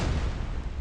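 A game explosion in Blue Archive: a dense, sustained low-heavy roar with a rumbling boom texture, loud and steady for under a second, with no voices over it.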